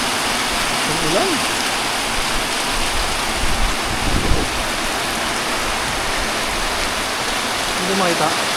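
Steady rain hisses across a campsite, a dense broadband wash that stays constant throughout, with a few brief voices murmuring faintly underneath.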